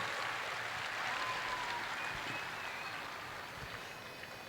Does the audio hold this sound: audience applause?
yes